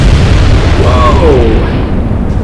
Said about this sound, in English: Magazine detonation from the onslaught.